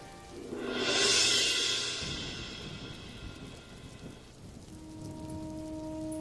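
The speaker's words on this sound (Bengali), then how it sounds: "এই বৃষ্টির মধ্যে" Steady rain falls outdoors as a broad, continuous hiss. It swells loudest early on, then settles into a lighter, even patter with a faint low hum underneath. No one speaks.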